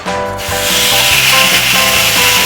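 A loud, continuous hissing sizzle as thinly sliced galbi short ribs hit a very hot pan, with soft background music underneath.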